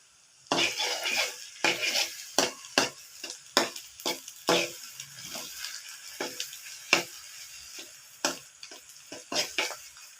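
A utensil scrapes and stirs egg in a pan in quick, irregular strokes, with a faint sizzle beneath the clatter.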